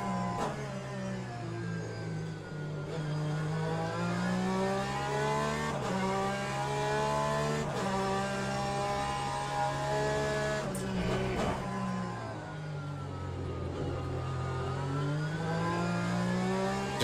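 Race cars in the Le Mans Ultimate sim racing game: a nearby engine drones and revs steadily through gear changes, with other cars passing and brief tyre noise, continuous and moderately loud with no talking.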